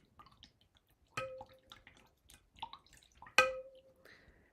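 A homemade laundry detergent mixture of soap ingredients is stirred, giving soft wet drips and squishy clinks with a couple of sharper knocks against the container, fairly close and intermittent.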